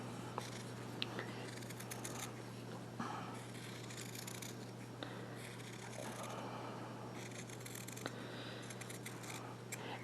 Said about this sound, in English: I'm just going to cut it out, leaving about 1/4 of an inch beyond my drawn line